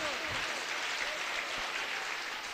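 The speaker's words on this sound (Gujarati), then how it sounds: "પાછી એક વખત આ તમામ બાળિકાઓ માટે જોરદાર તાળીઓ થઈ જાય" A school audience at an International Day of Yoga event in Deesa claps, a dense, continuous wash of many hands, moderately loud and filling the space, with faint voices underneath.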